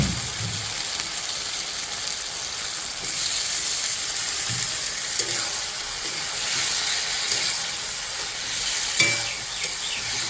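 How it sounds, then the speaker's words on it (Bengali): Meat goes into a pan of spice masala frying in oil, giving a steady broad sizzle close up with occasional stirring scrapes and soft knocks over about ten seconds. "মশলা থেকে তেল ছেড়ে দিয়েছে, এবার আমি মাংসগুলো দিয়ে দেব।"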